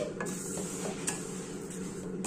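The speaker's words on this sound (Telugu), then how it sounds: "1 స్పూను నెయ్యి వేసి వేయించుతున్నానండి నేను." Rice frying in a spoonful of ghee in a pan while being stirred, a steady soft sizzle with light scraping strokes close up, no talking.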